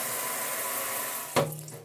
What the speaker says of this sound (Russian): Значит, чтобы добиться холодной воды, надо включать поворотом вправо.